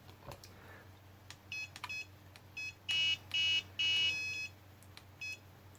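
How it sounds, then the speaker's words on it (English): Flysky G7P transmitter sounding its low battery voltage alarm: a few scattered short electronic beeps, then three louder, longer tones in a row, with quieter chirps trailing off in a small quiet room. "So we'll get an alarm telling us that battery's going flat."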